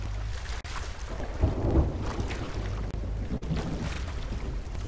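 Storm at sea in the pirate game Sea of Thieves: a constant roaring wash of wind and waves around a ship, with heavy low rumbles like thunder swelling through, no voices.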